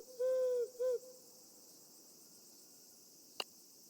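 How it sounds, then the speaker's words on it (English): Owl hooting in the video game Arco: two close hoots, the first longer and the second short, sound over a faint insect-like hum, followed by a brief sharp click near the end. "Even its hoots sound judgmental."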